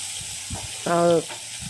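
Onions sauté in a pan for a goat lung pepper fry, giving a soft, low sizzle with a brief, slightly louder burst of stirring near the end of the short moment.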